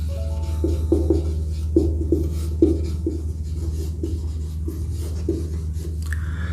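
Chalk or pen taps and scrapes out a tangent line equation in a classroom, with soft rhythmic strokes repeating across the clip over a low steady hum.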